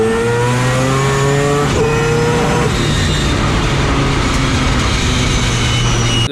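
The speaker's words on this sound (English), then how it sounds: "It's that I've stalled the car. I bogged the car out." Four-rotor race car launching hard, its engine roaring loudly and steadily with a shift-like break in the harmonics, then cutting off abruptly at the end as it bogs and stalls.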